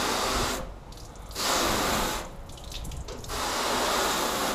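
Water sprays onto a car panel treated with wax or sealant in three strong hissing bursts, each a second or so long, separated by short pauses.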